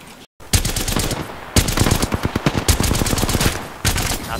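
Rapid automatic gunfire in the battle royale video game Apex Legends, loud close bursts of rattling shots with brief pauses between volleys.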